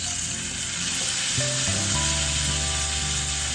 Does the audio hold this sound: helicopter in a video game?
no